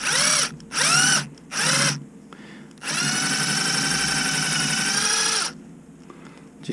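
A power drill drives a screw into a rusted, clogged grease hole on a fertilizer distributor to bore it out: three short whirring bursts followed by one longer sustained run, loud and close, with no talk.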